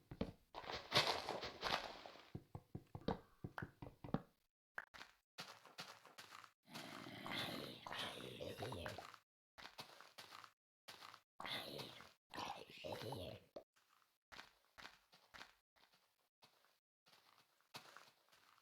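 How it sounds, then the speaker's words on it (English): Footsteps in Minecraft on the Wonderland.jar map, with several sets of steps plodding in irregular bursts through the scene, fairly close, alongside low game growls and grunts. "Hearing a lot of different footsteps here."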